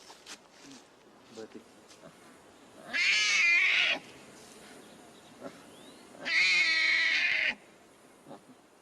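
Newborn snow leopard cubs in captivity in Siberia give two loud, high, drawn-out mewling cries about three seconds apart, each lasting around a second, with quieter rustling and faint voices in between.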